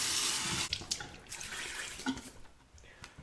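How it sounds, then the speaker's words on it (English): Hot water runs steadily from a bathroom tap at a sink before a shave, a close continuous splashing stream that shifts slightly as hands move through it, with no voices. "Let's warm up the face with some hot water."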